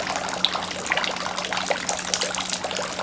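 Water pours and splashes steadily as hands are rinsed at a Japanese shrine's purification basin, a close, continuous trickling flow with small drips and no talking.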